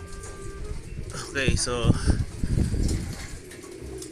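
Pigeons coo softly in a homing pigeon loft during training, their low murmuring calls continuing beneath someone talking close by.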